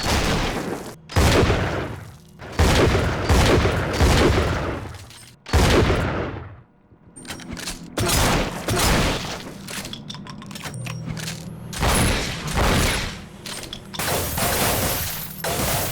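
Loud video game shotgun blasts fired one after another, about a dozen heavy booming shots with short pauses, some sounding different from others as ammo types change, mostly without talk.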